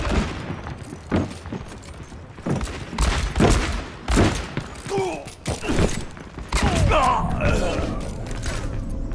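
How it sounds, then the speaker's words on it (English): Gunfire in Overwatch, played as McCree going for headshots: sharp shots and thumping impacts come in irregular bursts over a busy mix of game effects, with voice lines heard now and then. "Shooting."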